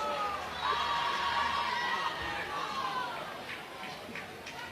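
A softball stadium crowd at Oklahoma reacts to a called ball, a broad wash of murmuring voices and scattered shouts swelling briefly at a distance, then easing back into background chatter.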